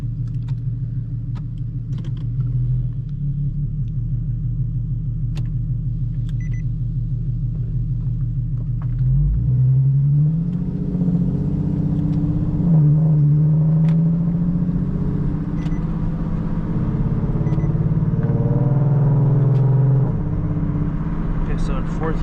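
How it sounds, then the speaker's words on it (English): A Nissan 370Z accelerates at full throttle in third gear from 40 to 70, its engine drone climbing steadily in pitch as a loud, continuous rumble inside the car. "And then full throttle third gear from. Okay, so acceleration from 40 to 70."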